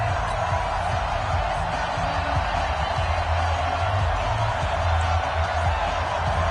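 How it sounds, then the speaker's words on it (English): Stadium crowd noise at an EA Sports NFL game on PS4, Redskins hosting the Detroit Lions, a steady loud roar with faint cheering sustained throughout, without clear peaks. "this crowd is pumped up as their Redskins get set to match up with the Detroit Lions"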